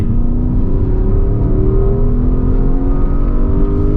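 A Porsche Taycan Turbo S electric car accelerating hard on a test drive, a loud steady electric whine rising in pitch over road and wind roar, heard from inside the cabin.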